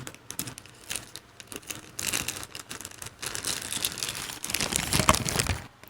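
Plastic and cardboard packaging of a Zero Two anime figure being ripped and crinkled open by hand, a run of close, uneven crackling and tearing bursts that grow busier toward the end.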